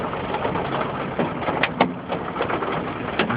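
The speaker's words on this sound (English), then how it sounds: "It's fucking hailing. Like the size of M&M's." Hail the size of candy pellets pelting a truck in Albany, New York, a dense loud rattle of ice striking metal with sharper individual hits popping out of the steady clatter.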